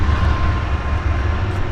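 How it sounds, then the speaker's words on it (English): A loud train passes close by, giving a steady, dense rumble and roar with a faint high tone running through it. "That train's very loud."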